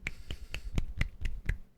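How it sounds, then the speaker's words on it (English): A one-handed clap made with the fingers, seven sharp snapping pops at an even, quick rhythm, close and fairly soft, each a crisp dry click with nothing else around them. "And I can clap with one hand"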